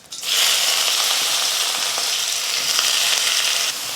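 Finely chopped onion sizzles loudly in hot oil with mustard seeds and cumin, a steady dense crackle that starts abruptly and holds close for several seconds with no speech.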